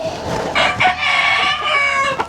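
A fighting rooster crows loudly and close by in the Indonesian hills, a long strained call with broken squawking notes, then a brief final cluck.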